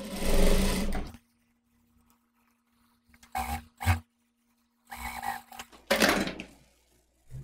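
Sewing machine stitching bias binding onto a chemise dress with a ruffle, in loud close bursts of rapid whirring separated by silent pauses, with no talk.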